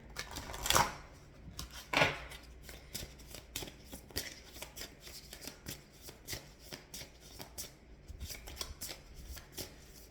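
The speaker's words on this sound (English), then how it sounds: "I'm going to shuffle this deck here." Cards are riffled and shuffled in repeated quick bursts, close by, with soft tapping between shuffles and no talking.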